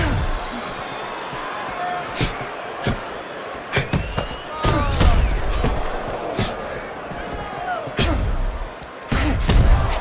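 Gloved punches in a heavyweight title boxing bout land as sharp, scattered thuds and slaps over a steady arena crowd roar, with a commentator talking throughout.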